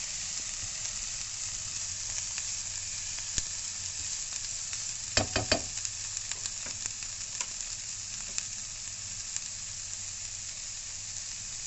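Chopped yellow bell pepper sautéing in a pan as part of a leftover-bread snack, giving a steady hissing sizzle throughout, with a short cluster of sharp stirring clinks midway.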